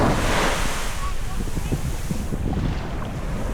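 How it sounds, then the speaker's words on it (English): Ocean surf rolls onto a beach at Albufeira, Portugal in summer, a steady loud wash of breaking waves mixed with heavy wind buffeting the microphone throughout. "gorgeous ocean."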